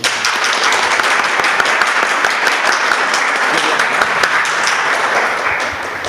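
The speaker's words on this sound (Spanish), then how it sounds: "por favor, recibamos con un voto de aplauso" Dense, loud audience applause welcoming a speaker at a literature history panel, many hands clapping continuously and evenly throughout, tapering slightly at the end.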